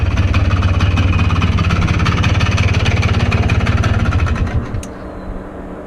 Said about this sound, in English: The two-stroke dune buggy.